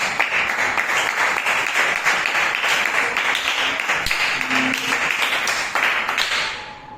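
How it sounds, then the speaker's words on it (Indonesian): Classroom applause from a group of ninth-grade students, a steady dense patter of hand claps filling the room, fairly loud and continuous before tapering off at the end. "beri tepuk tangan dulu buat teman-teman"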